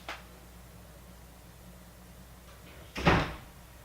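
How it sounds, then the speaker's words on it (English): A house door opens or closes with a soft knock at the start and then a single louder thud about three seconds later, close by in a quiet room with no talking. "I heard the door."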